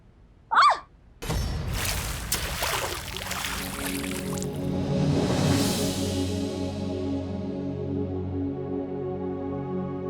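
After a brief sharp knock, water is flung with a sudden splash, then sloshes and settles with a lingering, ringing wash.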